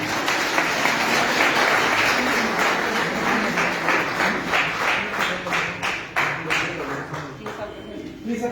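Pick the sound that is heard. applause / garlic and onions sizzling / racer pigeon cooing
applause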